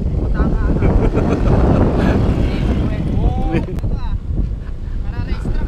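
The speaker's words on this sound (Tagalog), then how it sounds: "Wow, may motor natin dito." A motorboat heading out toward the sea at Bituin Cove, Batangas, its engine running as a steady, loud drone mixed with heavy wind buffeting the microphone, while people talk over it throughout.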